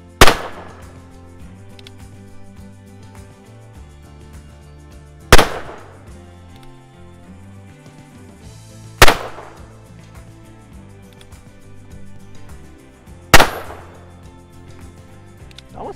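Four loud, close gunshots from a Ruger Super Wrangler revolver, each a sharp crack spaced a few seconds apart with quiet between.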